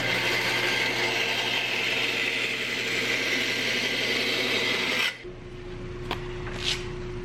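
A JET 14-inch bandsaw cuts through a workpiece with a loud, steady rasping drone over the motor's hum, then the cut ends and the hum runs on alone with a couple of faint clicks.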